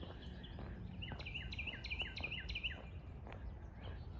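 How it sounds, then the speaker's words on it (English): Birds chirp beside a flat rail-trail near a bridge, a quick series of about five bright, repeated tweets in the middle, set over a faint outdoor background hum. "It is nice to hear the birds."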